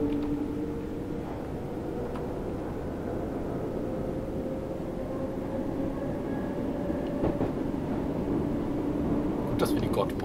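A train in Train Sim World 3 on the Island Line rumbles steadily after crossing points as it picks up speed, a low continuous drone with a faint whine and occasional clacks, while someone talks quietly over it.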